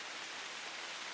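Steady, dense hiss of rain pattering on tree leaves, continuous and even with no distinct drops standing out, no voices present.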